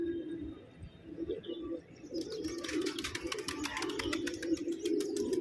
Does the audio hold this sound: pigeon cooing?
yes